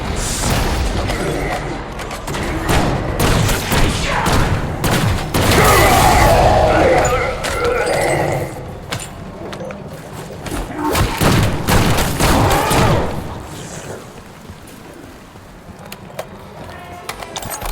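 A frag grenade explodes in a Call of Duty Zombies game amid rapid gunfire, loud booming thuds and dense bursts of shots, with someone talking over parts of the action.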